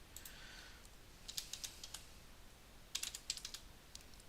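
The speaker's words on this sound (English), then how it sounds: "Let me see if I can type it here." Soft, faint typing on a computer keyboard comes in a few irregular bursts of quick key clicks with pauses in between, no voices.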